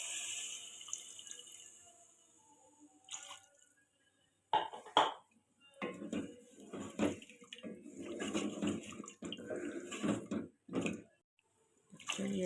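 Water is poured into a pot of fried potatoes for a potato chicken curry, starting as a faint trickle and then breaking into louder irregular splashes and gurgles in the pan, close by.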